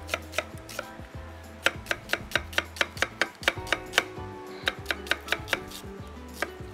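Sharp knife rough-chopping onions on a cutting board at home, a steady run of crisp, close taps, some quick and clustered, with brief pauses between bursts.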